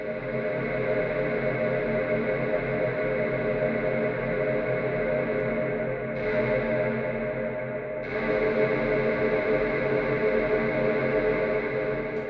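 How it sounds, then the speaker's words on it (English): Ableton Live reverb with the freeze engaged holds a dense, sustained tail indefinitely, a steady shimmering drone with no decay that shifts slightly in brightness partway through. "If we hit the freeze button on the reverb, Live will sustain the reverb signal forever."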